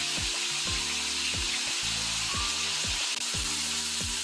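A steady bright sizzle of Jamaican oxtail browning in a hot pan runs throughout, with a low rhythmic thumping underneath and no talking.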